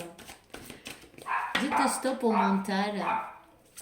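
A dog barks indoors in a few short, sharp yelps, then someone speaks French over it while some whimpering mixes in.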